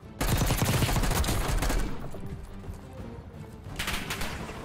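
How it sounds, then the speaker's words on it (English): Rapid bursts of close gunfire in Warzone, the Black Ops 6 battle royale, loud dense volleys for the first two seconds, then softer scattered shots and a later renewed burst. "Who's shooting at me?"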